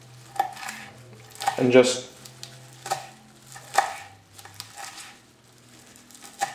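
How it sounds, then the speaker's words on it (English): A knife chopping kale on a cutting board, a few sharp, spaced thuds with a brief burst of quick chops, close and clear, with a short spoken phrase. "roughly chop it again"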